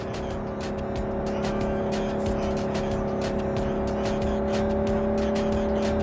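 A car drives steadily in Cyberpunk 2077, its engine holding a constant droning pitch with road noise and repeated sharp ticks or clicks over six seconds.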